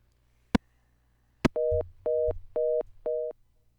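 Telephone busy signal after a dropped call: two sharp clicks, then four evenly spaced loud tones with a low hum beneath, sounding alone with no voices.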